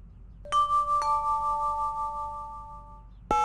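Touch-tone telephone dialing beeps in the X-Files video game: a series of clean, sustained electronic tones following sharp key presses, ringing steadily for a few seconds before another abrupt tone at the end, with no talking.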